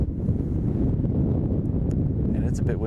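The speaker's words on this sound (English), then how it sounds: "And it's a bit windy." Steady wind buffets the microphone outdoors on a cold day before a motorcycle ride in Tidnish, Nova Scotia, a continuous low rumble filling the clip with a few faint higher rustles near the end.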